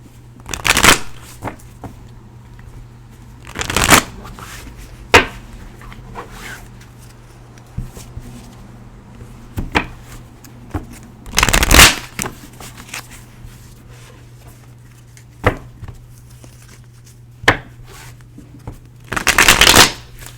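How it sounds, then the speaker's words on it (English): Tarot cards are riffled and shuffled in brisk, loud bursts at irregular intervals, separated by quiet pauses over a low steady hum. "Bear with me as I shuffle. Still shuffling"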